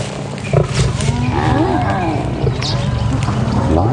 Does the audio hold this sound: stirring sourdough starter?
no